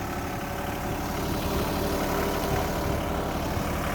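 A Komatsu PC30-6 mini excavator's diesel engine runs steadily nearby, a loud, continuous rumbling idle with an even mechanical chug that holds unchanged throughout, with no talk.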